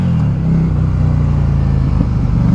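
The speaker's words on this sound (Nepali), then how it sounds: "डुकाटी स्क्रैम्बर 800 है यो बाइक चाहिँ है" A Ducati Scrambler 800 motorcycle engine revs loud and close, a deep throbbing idle-to-rev drone holding steady with slight swells, heard during cornering practice in Chuncheon, South Korea.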